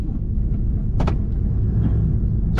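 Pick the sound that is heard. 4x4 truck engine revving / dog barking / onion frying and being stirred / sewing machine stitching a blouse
4x4 truck engine revving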